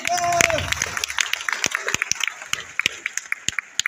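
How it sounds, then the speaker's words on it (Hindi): Clapping from women seated in a hall, a brief burst that quickly thins into sparse, separate sharp claps. "एक जोरदार तालियां इनके लिए।"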